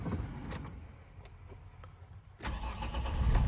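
The 2.0-litre diesel engine of a 2010 Renault Trafic van cranks and catches, then settles into a steady low rumble, preceded by quiet clicks and rustling nearby.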